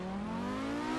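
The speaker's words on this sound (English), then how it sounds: "engine braking really helping us here" Simulated Audi Sport Quattro S1 race car on the Pikes Peak hill climb in a racing game, its engine note falling steadily under engine braking, a smooth droning whine held close and loud without a break.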